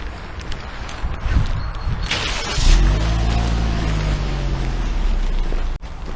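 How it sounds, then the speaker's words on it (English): A car engine runs while the vehicle reverses, settling into a steady, close, low idling drone after a few scrapes and knocks, then cutting off briefly near the end. "they're sneakily getting a car to reverse at me, and there's already a car that's been started."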